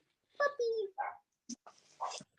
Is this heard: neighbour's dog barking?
yes